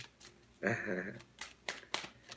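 An oracle card deck being shuffled by hand, a short burst of riffling cards followed by a few soft taps and flicks of the cards, close and quiet with no talking.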